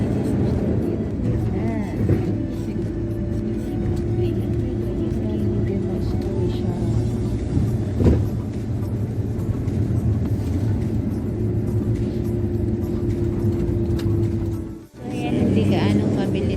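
A minivan rolls slowly along a road, heard from inside the cabin as a steady low engine and road drone with a faint voice talking over it, before a short dip and a return near the end.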